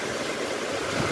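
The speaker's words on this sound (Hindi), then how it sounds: "इतना जबरदस्त पानी गिर रहा है गाइस, बहुत ही ज्यादा। ठंड भी बहुत ज्यादा है और इधर का बारिश" Heavy rain pours down at night, a dense, continuous hiss of falling water close by, loud and unbroken, with no voices.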